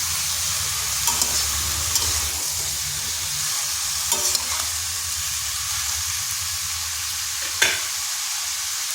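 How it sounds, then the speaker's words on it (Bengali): Steady sizzle of bottle gourd being stirred with other ingredients in a hot pan for a vegetarian dish, with a few sharp spoon clicks and scrapes against the pan. "লাউয়ের সাথে সমস্ত উপকরণগুলি মিশিয়ে নিচ্ছি"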